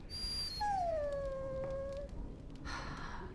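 A dog in Dragon Age: Origins gives a single long, high whimpering whine that slides downward and fades, close and alone with no talk.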